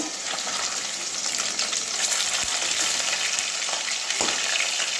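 Pieces of catla fish fry in hot oil in a wok with a loud, steady, close sizzle, broken by a few soft knocks of turning or handling.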